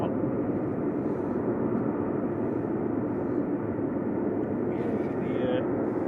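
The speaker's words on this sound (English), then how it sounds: "EasyJet off to Amsterdam there, A320-200 GEZTX" An EasyJet Airbus A320-200 departing Manchester Airport, a muffled steady jet roar at moderate distance, continuous with a brief higher tone near the end, and talk likely underneath.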